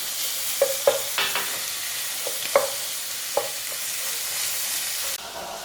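Pork fries in a sausage pan, giving a steady hiss broken by a few sharp clicks and scrapes of a utensil, up close, with no talking.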